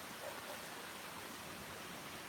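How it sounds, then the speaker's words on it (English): A waterfall on a bright day, heard as a faint, steady broadband rush of falling water that stays even throughout, distant and without any voices over it. "There's the waterfall."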